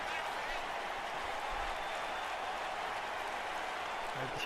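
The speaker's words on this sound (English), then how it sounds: "This crowd very much excited." An arena crowd in the WWE 2K19 wrestling game cheers and applauds during an Elimination Chamber event, a steady broad roar that continues without a break.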